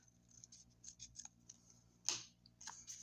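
Very sharp scissors snip through a paper sticker, a quiet run of close crisp cuts and clicks with one louder snip partway through.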